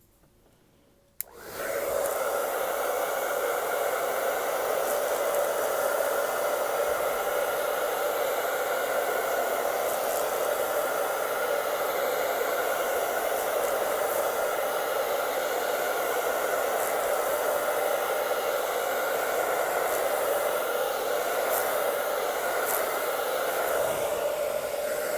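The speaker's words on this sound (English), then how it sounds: "another round of the hair dryer" A hair dryer switches on after a brief quiet moment and blows steadily on fresh paint, a loud, constant whooshing roar that continues without pause.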